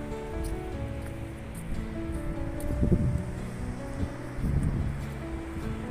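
Surf and wind on Guhagar beach in Konkan: a steady broadband wash of breaking waves with gusty wind. Two slightly louder swells rise midway.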